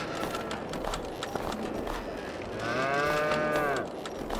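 Cows lowing in a barn in the video game Farming Simulator 22, one long drawn-out moo rising clearly over steady farm background noise.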